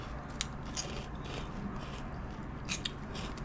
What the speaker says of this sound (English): Well, there's a nice crunch, right?